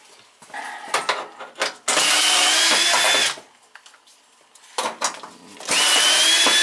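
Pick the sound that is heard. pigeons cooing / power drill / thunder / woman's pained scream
power drill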